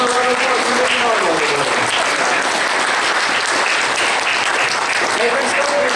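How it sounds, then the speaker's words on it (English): Loud, dense applause from a convention crowd for a costume contestant, sustained and even throughout, with an announcer's voice carrying over the clapping at the start. "And one more round of applause for Miss Marvel."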